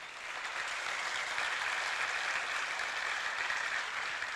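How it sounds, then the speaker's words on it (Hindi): A congregation at a Jain monk's sermon claps in a soft, distant, even wash of applause that swells in at the start and holds steady throughout. "अच्छी चीज के लिए सभी लोगों की तरफ से जो है तालियां बजनी चाहिए"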